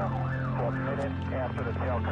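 A wailing emergency siren rises and falls repeatedly and continuously over a steady low drone.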